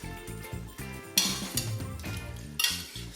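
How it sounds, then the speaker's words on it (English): A spatula scoops and separates cooked tapioca pearls in a pot, giving soft scraping and light clinks of metal on cookware under steady background music, with a couple of brighter scraping bursts. "We will go with our spatula and we will scoop it up to separate them"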